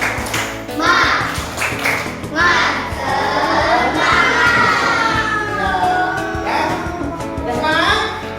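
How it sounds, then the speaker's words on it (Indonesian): A school class does a rhythmic clapping chant together, with bursts of hand claps interleaved with children's voices chanting loudly in unison, lively and close throughout. "Tepuk semangat."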